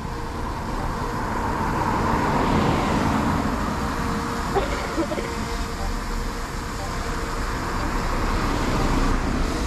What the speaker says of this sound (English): just wait till these cars go past